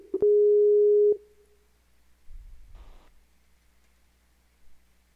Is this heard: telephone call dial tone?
yes